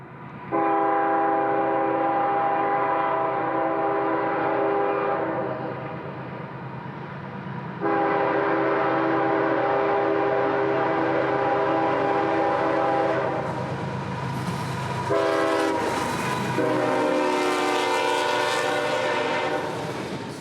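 Train 492 on the A Line rapidly approaching, its horn sounding in long sustained blasts over the steady rumble of the locomotive and cars, loud and close, with a brief break in the horn midway.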